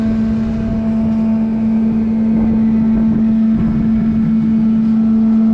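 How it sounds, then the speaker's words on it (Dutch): A HUSS motor drives the Flying Orca flying-whale ride at Bobbejaanland, giving a loud, steady droning hum with a strong sustained low tone and rumbling mechanical texture throughout, with no talk over it. "luister maar naar de motor die hem aandraait. Het is gewoon echt de Heus motor."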